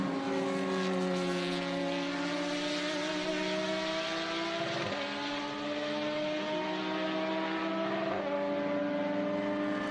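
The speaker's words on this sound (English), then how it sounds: "Great sounding car too" Race car on the Road America circuit during a Trans Am SpeedTour race, its engine droning loud and steady with rising and falling pitch sweeps as it passes, no talk over it.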